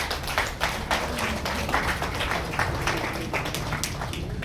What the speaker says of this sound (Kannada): ಜೋರಾಗಿ ಬರಲಿ ಚಪ್ಪಾಳೆ